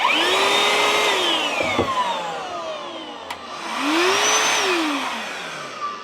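A DeWalt DCV501LN cordless handheld vacuum's high-pitched motor whine spins up, winds down, then ramps up again close by, with a couple of brief clicks.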